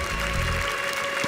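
A church congregation applauding at a Catholic healing gathering, a steady wash of clapping that fills the short moment at close range.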